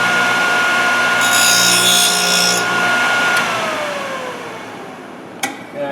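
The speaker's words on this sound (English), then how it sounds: "Turn my motor on." A Thorvie AV-40 sharpening machine motor runs steadily and loudly with a constant whine, a brief grinding rasp partway through, the pitch sagging slightly as it winds down near the end; no talking.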